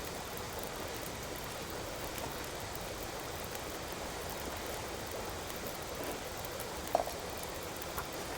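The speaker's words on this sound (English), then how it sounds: "I really don't like the sound of the waterfall in the back." Waterfall in The Long Dark, a steady, faint, broadband rushing in the background, unbroken throughout with a tiny click near the end.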